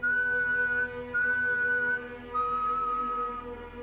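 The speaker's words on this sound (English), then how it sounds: "3 long whistles," Three long, steady whistled tones in a row, each held for about a second with brief gaps, over a constant low hum.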